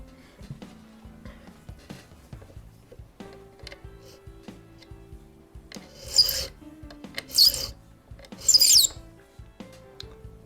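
Hand filing a 45-degree bevel on a small pin for an 1837 French Japy Freres mantle clock held in a pin vise, repeated light rasping strokes with a few louder scrapes near the end.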